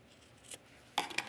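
Scissors trimming fabric at the edge of a sewn sports bra tank, a faint brief snip followed by a louder burst of two or three close crisp cuts.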